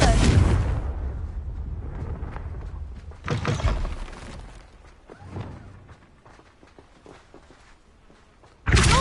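A Confringo spell explodes in Hogwarts Legacy with a deep booming blast at the start, another strong burst a few seconds later, quieter rumbling and thuds after, and a final loud hit at the end.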